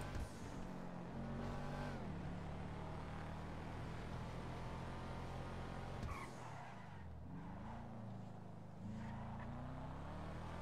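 A Sultan car drives in a video game, its engine droning steadily with shifting pitch as it accelerates and changes gear, with tire noise and a brief skid-like swell partway through, loud and continuous.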